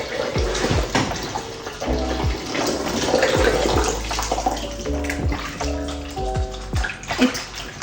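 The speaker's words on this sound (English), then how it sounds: "I really like washing my wings with lemon." Steady running water splashes and gurgles into a basin for several seconds, with handling noises as chicken wings are rinsed beneath the stream.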